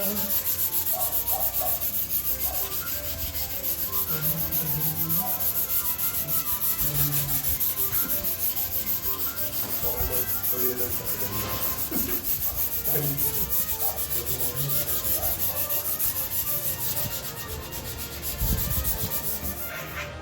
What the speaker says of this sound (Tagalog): Sa huli, liliyain pa rin siya.